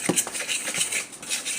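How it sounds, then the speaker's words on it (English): A metal fork scrapes and taps against a dish while stirring flour mixed with salt and pepper, making quick, close clinks and scratchy swishes in an uneven rhythm. "So I'll mix it up with a fork. Stir it around."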